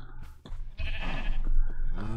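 A few Minecraft cows give short, nasal mooing calls, close and overlapping in quick succession against faint in-game background sound.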